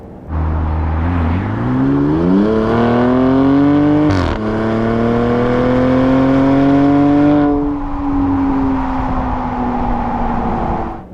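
A 2025 Ram RHO pickup truck accelerating hard, its engine note climbing steeply, then a sharp gear shift near the midpoint and another rising pull that gradually eases, loud and close with no talk.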